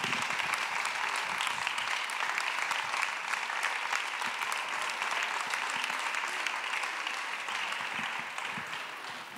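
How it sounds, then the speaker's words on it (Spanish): Sustained applause from an audience at a gathering about adolescence free of mobile phones, a dense, steady wash of many hands clapping for the whole stretch, fairly loud and slightly fading toward the end. "un aplaudiment per tots nosaltres també per fer això que estem fent."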